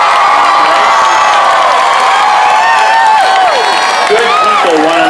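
An audience at a school music heritage festival cheers and shouts for the bus drivers, a loud sustained wall of crowd noise with whoops and children's voices, clapping buried underneath.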